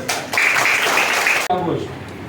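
A quiz audience gives a short burst of applause for a correct answer, lasting about a second before it drops off into quieter room noise.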